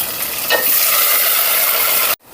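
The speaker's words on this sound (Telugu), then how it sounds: "ఉల్లిపాయలు నూనె వేడెక్కాక ఉల్లిపాయలు బాగా రోస్ట్ అవ్వాలి" Onions and ginger-garlic paste frying in hot oil give a steady, loud sizzle with no talk, which cuts off abruptly near the end.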